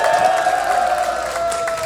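Crowd applause at a rally, with dense clapping and murmuring close by and a sustained tone running beneath it, continuous for about two seconds.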